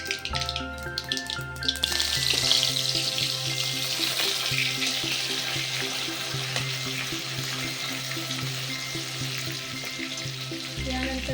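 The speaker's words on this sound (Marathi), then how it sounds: "मोहरी घालून घ्या मोहरी तडले तडतडल्यानंतर यामध्ये जिरे घालून घ्या" Mustard seeds, cumin and ground garlic with coriander sizzle loudly in hot oil, a bright crackling hiss that swells after a short start and continues steadily beneath a faint background tone.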